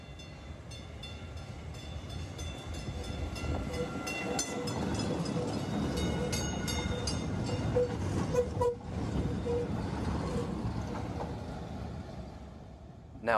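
A vintage, non-refurbished three-car PCC trolley set rolls past on the Mattapan Line, with a steady rumble of wheels on rail, squealing metallic tones, and a short toot of the horn, at moderate distance.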